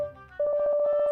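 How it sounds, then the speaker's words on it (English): A phone called a DDD gives a short electronic ring: a sustained bright tone with a rapid pulsing warble, clear and fairly close after a brief quiet lead-in. "Lord Diavolo's DDD is ringing like crazy"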